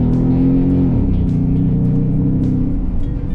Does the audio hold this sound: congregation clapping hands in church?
no